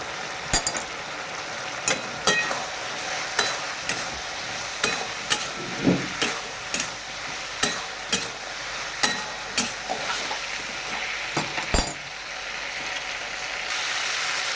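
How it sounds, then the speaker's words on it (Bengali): Turmeric, cumin, chili and coriander powder are sautéed in a pan for a bitter gourd dish: a constant low sizzle with regular spatula scrapes and clicks repeating about every second, close and moderately loud. "জিরে মরিচ ধনের গুঁড়ো দিয়ে দেবো মরিচটা একটু লাগবে এই মশলাটা দিয়ে কষবো"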